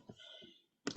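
A couple of quick taps on calculator keys, short dull clicks close up, following a brief murmur in a quiet room.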